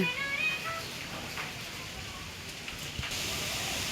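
Heavy rain falls outside, a steady, even hiss of downpour that continues throughout, with a faint voice briefly audible at the start.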